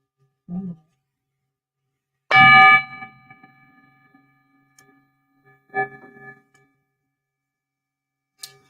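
A bell is struck once loudly with a ringing, sustained metallic tone that decays slowly, followed by a second softer strike a few seconds later; a short voice is heard just before the first ring.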